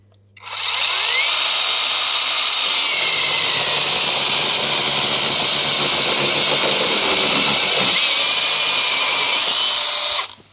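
Two 18 V cordless chainsaws, an AL-KO and a Konsung, cut wood with a loud, steady motor whine and chain buzz. The sound holds for about ten seconds and then stops abruptly.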